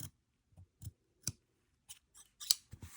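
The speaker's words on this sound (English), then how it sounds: "on your cut line, getting as close as possible to those corners without cutting through the seam" Sharp, close scissor snips cut fabric near seam corners, about ten crisp, irregular clicks separated by quiet pauses.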